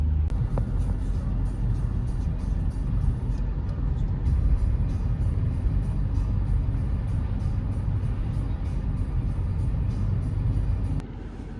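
A car heard from inside as it drives along, a steady engine and road rumble running loud and unbroken before dropping suddenly at the end.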